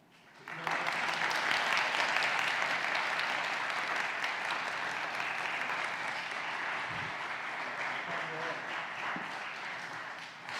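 A church congregation at a Sunday afternoon service bursts into sustained applause, dense steady clapping that swells quickly and carries on for about ten seconds, with faint voices underneath.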